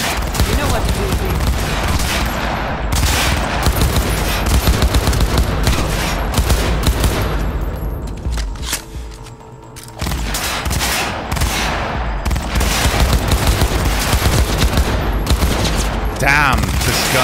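Dense, sustained gunfire from Cyberpunk 2077 rattles almost nonstop, loud and close, with a brief lull near the middle before the shooting resumes and voices drift in beneath it.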